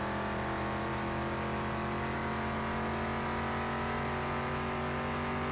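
A 1971 Edgewood Wildcat engine in the Car Mechanic Simulator 21 video game drones loud and steady on a track. The throttle is held with slight variation and no voices are heard.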